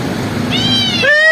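Cats meowing with loud, tense, slightly aggressive cries; a low rumbling background gives way to two or three drawn-out, rising meows, close and clear near the end.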